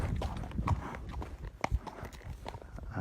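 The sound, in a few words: horse hooves loping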